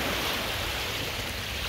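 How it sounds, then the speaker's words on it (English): Ocean surf at a beach at night, heard as a steady, soft broadband wash of waves with no distinct breaks, fairly faint and continuous throughout. "nandito kami sa beach"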